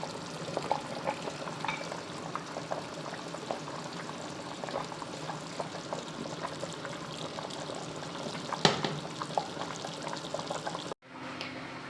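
A pot of chicken soup boils with soft bubbling and gurgling, small pops and the odd clink, with one sharper knock near the end before it cuts to near quiet, and no talking.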